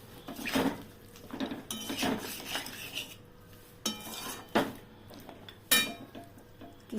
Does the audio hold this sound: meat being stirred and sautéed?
yes